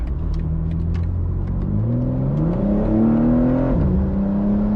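A 2025 BMW M4 Competition Convertible LCI engine drones loud and steady from inside the cabin on a test drive, its pitch climbing as it accelerates, dipping briefly at a gear change, then climbing again.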